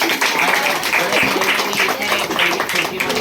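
Crowd applause at a village health camp event for women in Phansoli, a steady dense wash of clapping throughout with voices mixed in.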